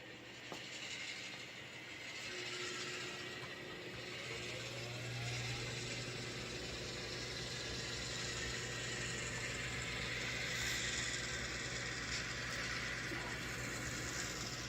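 A small DCC model locomotive whirs and clatters along a track pulling a train, with a continuous mechanical hum and rhythmic ticking, steady and moderately close throughout.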